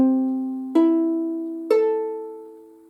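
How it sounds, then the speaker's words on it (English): Three plucked ukulele notes ring out one after another, each struck cleanly and left to decay, close and clear with nothing else heard. "So when you've got them all in tune, it should sound like this."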